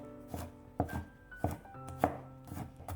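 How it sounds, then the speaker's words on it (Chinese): A knife chops flattened garlic cloves into mince on a cutting board: several sharp, hollow thuds at an uneven pace, close and clear, with faint ringing between strikes and no voices. "再准备几瓣大蒜，先拍扁，然后给它切成蒜末"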